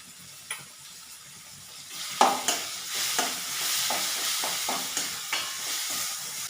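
Ginger and garlic frying with softened onions and tomatoes for a chicken curry, a soft steady sizzle broken by repeated spoon scrapes and taps against the pan, close and fairly quiet, no voices.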